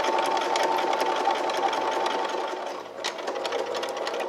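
A domestic sewing machine stitches a straight seam along the fabric edge, running in a steady close whir with a brief slowdown partway before picking back up; no talking over it.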